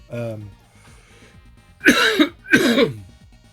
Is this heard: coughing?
yes